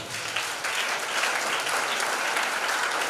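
A church congregation applauds in praise, producing dense, sustained clapping from many hands that fills the whole moment at a fairly loud, even level, with no voices standing out.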